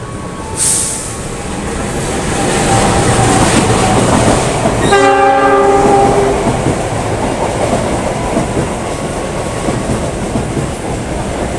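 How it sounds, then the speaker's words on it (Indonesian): The Jayabaya train speeds straight through Gang Sentiong station. A loud rolling rumble swells as it nears, and a chorded horn blares for about a second and a half in the middle before the clatter slowly recedes. "Kereta api melintas langsung di stasiun Gang Sentiong."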